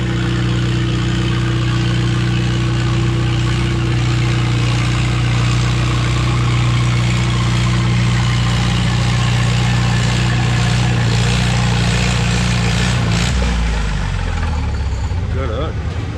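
An antique pulling tractor, a freshly rebuilt M at a test-and-tune session in Shannon, Illinois, runs with a loud, steady low engine drone. The engine note drops near the end, and voices can be heard under it.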